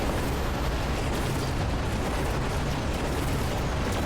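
Orbital strike blasts from the Mechabellum strategy game rumble as a continuous, loud wash of dense explosive noise, with no clear separation between impacts.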